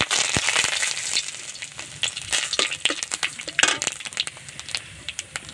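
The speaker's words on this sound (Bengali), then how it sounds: "তেজপাতা আর জিরে দিয়ে দিচ্ছি" Bay leaf and cumin seeds hit hot oil in a pan, giving a close, bright sizzle with sharp spattering pops and stirring clicks scattered through a few seconds, no talking.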